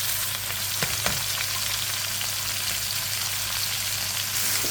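Potatoes and papaya fry in hot oil with cumin tempering, making a dense, continuous crackling sizzle close by, with a couple of small knocks early on and no voices over it.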